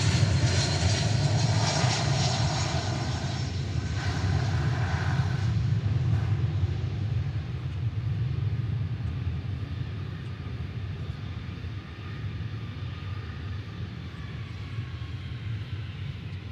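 American Airlines Flight 1040 from Louisville comes in to land at DFW Airport, its jet engines a steady, broad roar that lingers at moderate distance and slowly eases off, with no talk.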